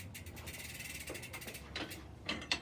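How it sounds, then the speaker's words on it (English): A pedal wrench loosens a bicycle pedal as the cranks rotate forward, giving a continuous ratcheting, clicking mechanical whir with a few sharper ticks and creaks close by near the end. "Engage your pedal wrench with the flats on the pedal. Loosen by rotating the cranks forward."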